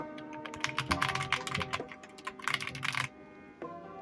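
Rapid clicky keystrokes from an RK Royal Kludge M87 mechanical keyboard, typed in bursts with a short pause before a final flurry, close and fairly loud with no talking.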